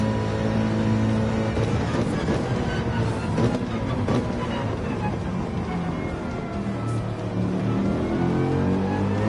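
A race car engine in Gran Turismo 7 holds a steady, loud drone with shifting tonal bands as it revs up and down through a corner, continuous for the whole stretch.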